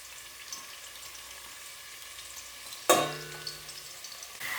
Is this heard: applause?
no